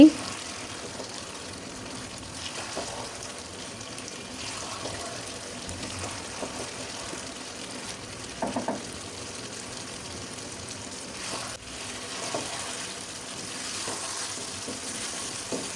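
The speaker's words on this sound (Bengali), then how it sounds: "যদিও আমি ফ্রাই প্যানে করছি তারপরেও বারবার নেড়ে দিচ্ছি" Chicken kala bhuna cooks in a frying pan under steady sizzling, with intermittent scraping stirs, close and moderately quiet, while a voice talks throughout.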